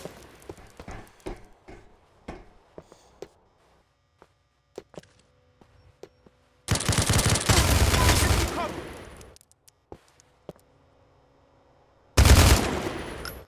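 Gunfire in a shootout in Grand Theft Auto IV: scattered single shots at first, then two dense, loud bursts of automatic fire, with voices talking in between.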